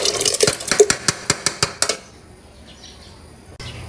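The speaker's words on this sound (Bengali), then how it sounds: "এখন আমি হালিম মিক্সটা ঢেলে দিয়ে মিক্সড করে নিব" A spoon clatters quickly against a metal pot as haleem spice mix is stirred into meat, about a dozen sharp rhythmic knocks up close, then a quiet pause with faint rustling.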